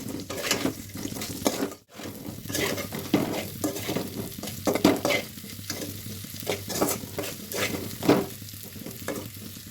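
Salt and turmeric powder with spices sizzle and fry in a hot pan, a steady close crackle with repeated stirring scrapes through the whole stretch, broken by one brief silent gap near the start.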